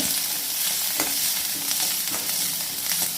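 Curry leaves and tomatoes fry in a hot pan with a loud, continuous sizzle, punctuated by a few soft stirring scrapes, with no talking.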